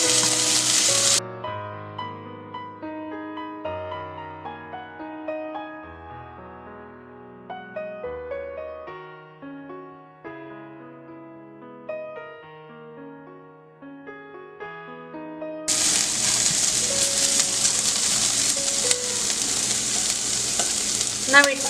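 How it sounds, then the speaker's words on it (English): Paneer kati roll vegetables, capsicum and colored bell peppers, sizzle and get stirred in a hot pan, a steady frying hiss at the start and again loudly near the end, with background music in between. "we can add capsicum and color bell peppers. Mix everything well and roast this for 3 to 4 minutes"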